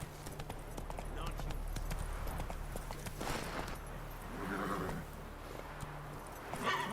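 Horse hooves clip-clop steadily in The Witcher 3, a rhythmic trot heard through the whole stretch beneath game music and ambient noise, with a voice speaking briefly.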